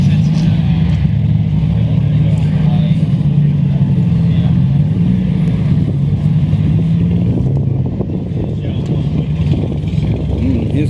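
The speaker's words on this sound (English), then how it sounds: "As still more cars are rolling in." Cars rolling in to a Coffee n Cars meet at Tonsley Park, including older Holdens such as a Commodore wagon, give a steady, close engine rumble with some revving throughout, with voices faintly audible underneath.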